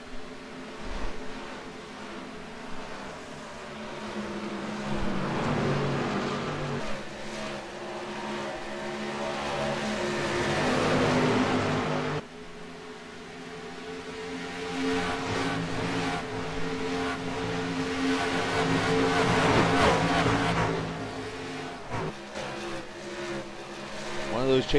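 Racing truck engines roar through a sim race in the SRA Truck Series, following the NOS Energy truck as a pack of trucks jostles for position; the drone stays steady and loud under continuous commentary from race announcers.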